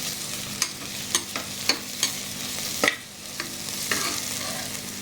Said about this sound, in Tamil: அடிக்கடி இதை கிளறி விட்டுக்கிட்டே இருக்கணும்.